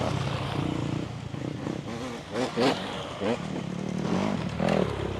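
A motocross bike's engine revs and surges with throttle on an off-road trail as the rider hops a small rock pit, the motor rising and falling in bursts while someone talks over it.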